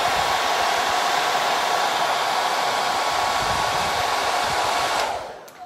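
A hair dryer blows a steady, loud rushing stream of air onto roses, running without a break before cutting off abruptly near the end.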